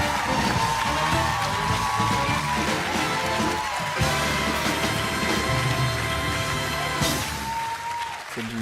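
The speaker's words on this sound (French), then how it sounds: "Merci de les applaudir." An audience claps for a troupe of urban hip-hop dancers after a televised dance competition performance, a dense sustained applause that swells and persists throughout.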